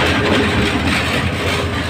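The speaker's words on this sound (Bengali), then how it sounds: "এটা হচ্ছে আমাদের ট্রেনের লোকোমোটিভ" A train locomotive in Bangladesh, being coupled to the Kishoreganj Express, gives off a steady, loud, close diesel engine rumble with no breaks and no voices.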